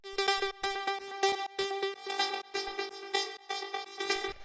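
A plain, dry synth without a resonator effect plays a bright, choppy pattern of short repeated stabs in a steady techno rhythm, close and alone.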